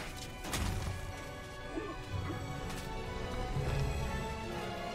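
In the MediEvil remake, lava rocks tumble and crash down stone stairs in a run of heavy thuds and smashing impacts over a steady game backdrop of rumble.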